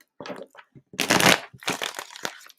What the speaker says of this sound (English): We'll get a couple more shuffles in to clear